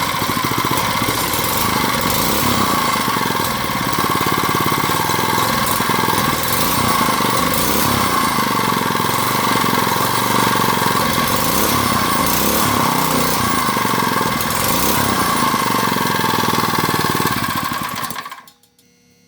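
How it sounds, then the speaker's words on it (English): A Predator 79cc small engine running cold, a loud steady buzzing drone close by that holds evenly before cutting off abruptly near the end. "Alright, we got her running right here."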